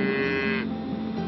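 Dairy cattle at pasture give a single low, drawn-out moo, close and fairly loud, with no talking.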